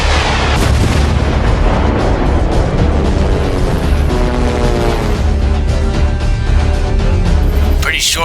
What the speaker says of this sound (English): Sure he survived that explosion.